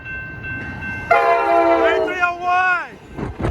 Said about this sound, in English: Here comes San Joaquin train 716.